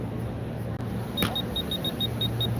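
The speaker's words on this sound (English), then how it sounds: "I'll go ahead and do some ribbon printing." A small app-controlled mobile ribbon printer feeds and prints a ribbon, giving a run of short, evenly spaced high electronic chirps over a steady background hum, close by.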